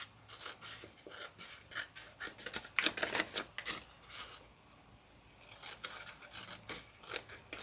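Scissors trim the edges off security envelope paper for a Halloween ephemera craft, giving quiet, close snips and paper rustles in irregular clusters, with no voices.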